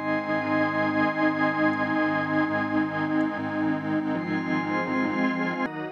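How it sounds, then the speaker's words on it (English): Music run through the Sound Toys Crystallizer plugin on a bus, giving sustained shimmering tones with a warbling, pulsing texture and a pitch shift near the end, steady and close with no voices. "Both of those through a bus with a plugin called the Crystallizer by Sound Toys"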